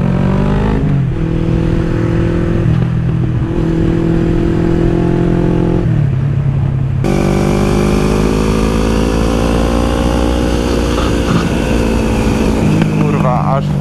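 A Ducati motorcycle engine runs loud and steady in the foreground, its pitch rising and falling with throttle changes, with a sharp jump in revs midway and a brief rev burst near the end, heard while riding at a German motorcycle meet.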